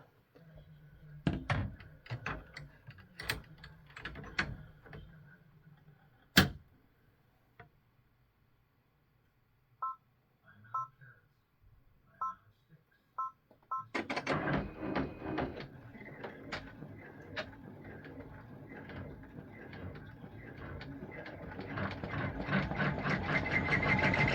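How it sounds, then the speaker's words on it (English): A sewing machine stitches the placement line for the egg yolk on a fabric egg Christmas ornament. After scattered clicks and thumps, the steady run of stitching starts about halfway through and grows louder toward the end. "So the next part is going to stitch the placement line for the egg yolk."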